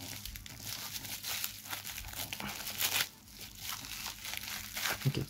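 Yu-Gi-Oh card packaging is opened by hand, with close, crisp plastic crinkling and tearing in irregular bursts and a brief pause partway, no talk.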